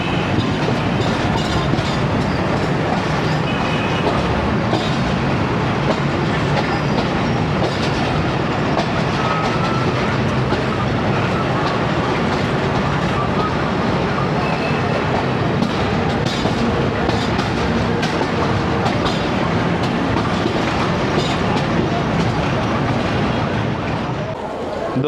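The Ghouri Express passenger train runs on rails between Faisalabad and Lahore, a loud, dense rumble of wheels and carriage noise with faint rhythmic clatter, heard close from on board and unbroken throughout.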